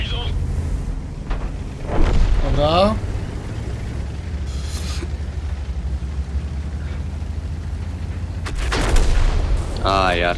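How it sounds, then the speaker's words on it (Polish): Artillery fire during a tank battle in the video game World of Tanks, heard as deep booms and rumbling impacts beneath continuous battle noise, with someone talking over parts of it. "Artyleria."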